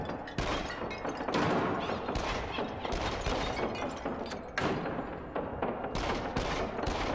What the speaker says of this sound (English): aiming with the pistols is so much easier!